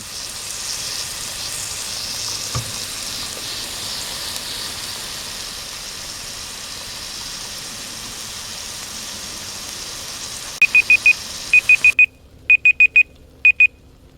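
A tough top round steak fries in a pan with a steady, even sizzle for about ten seconds before a timer alarm beeps in quick repeated bursts and the sizzle cuts out.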